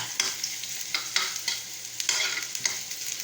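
Ginger sautéing in a deep wok at the start of a chicken tinola, giving a steady close sizzle broken by about five scraping stir strokes at regular intervals, with no talking.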